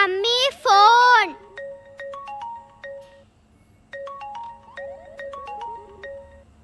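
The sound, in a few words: phone ringtone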